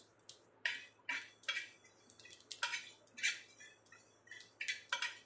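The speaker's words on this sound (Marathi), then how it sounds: "बघू शकता गॅस बंद आहे तरी तीळ तडतडतात ते" Sesame seeds crackling and popping on a very hot griddle after the gas flame is off, toasted for a village-style katla fish curry masala. Irregular bursts of sharp crackles come close and fairly loud, with no talking.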